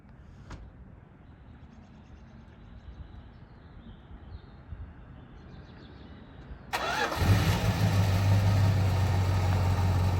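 A 1973 Dodge Charger's engine cranks and fires up partway through after quiet outdoor ambience, then settles into a loud, steady rumbling idle up close.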